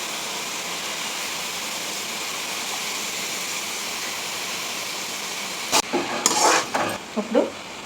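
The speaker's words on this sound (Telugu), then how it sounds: "ఇప్పుడు వంకాయలు వేసుకున్నామండి." Eggplant pieces sizzle in a pan of fish curry: a loud, steady frying hiss runs throughout, then near the end a spoon stirs and scrapes against the pan in several clattering strokes.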